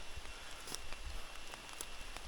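Heavy rain pours over a forest in a steady, dense hiss, with scattered sharper drop taps and a faint low rumble underneath; no one speaks.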